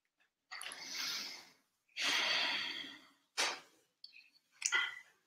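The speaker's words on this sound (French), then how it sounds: "Avoir une grande respiration." A person takes slow, deep breaths during a guided relaxation, with two long drawn breaths followed by shorter sharp exhales, close and quiet, with no talking.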